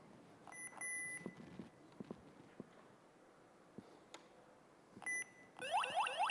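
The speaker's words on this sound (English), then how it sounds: "the alarm system is armed, so if I open it, it should go online." An armed smart home alarm system, at a live hacking demonstration, beeps in two short bursts of bright electronic tones, the second a few seconds after the first, followed by rapid chirping, with quiet room noise and scattered clicks in between.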